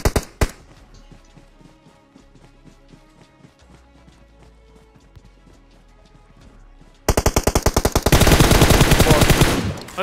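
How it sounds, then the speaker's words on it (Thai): Rapid automatic gunfire in the mobile battle-royale game PUBG Mobile, a faint steady rattle of distant shots that bursts into loud, dense close-range bursts near the end. "พี่น้ำระวังตัวไกลยิงมานะ"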